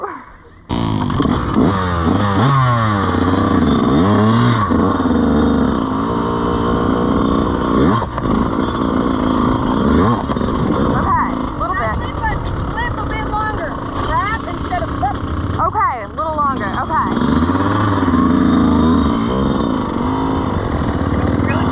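Motorcycle engines rev and rise in pitch at a women's dirt bike riding clinic practising wheelies, loud and continuous, with several bikes accelerating over one another while people talk nearby.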